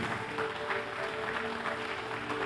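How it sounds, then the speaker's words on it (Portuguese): A church congregation at a Sunday service claps in praise, a soft, steady wash of applause underneath a sustained tonal hum. "Vamos aplaudir o nosso Deus"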